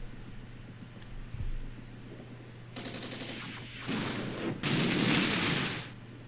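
Artillery and gunfire in the war game Armored Brigade: a few muffled distant booms, then dense crackling bursts of fire that build to a loud sustained barrage, with no voices.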